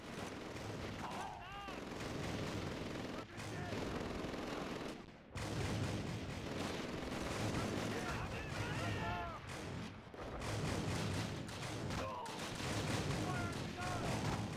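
Anti-aircraft flak cannon fire in a Call of Duty World War II battle at Arnhem: repeated heavy bursts and booms over dense battle noise and shouting voices.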